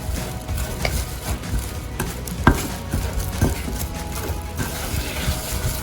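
Marinade for fried chicken with sugar and seasoning powder is stirred in a bowl, giving a close, continuous scraping and swishing with a few sharper knocks of the utensil against the bowl.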